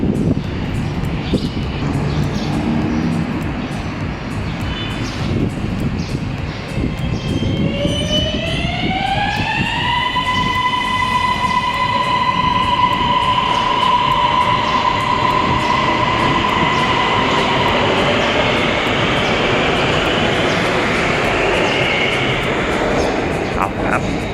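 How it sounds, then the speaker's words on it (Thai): A Bangkok MRT Blue Line metro train rumbles past with a rising electric motor whine that holds steady, loud and continuous, as it heads down into an underground tunnel. "เดี๋ยวเรามาดูรถไฟฟ้าขบวนนี้ลงใต้ดินกันก่อนครับ"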